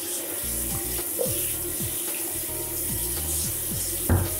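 Running water splashes steadily while a dirty bathtub drain and the surrounding rubber fitting are scrubbed clean, a continuous close hiss with a few brief knocks and one louder splash near the end.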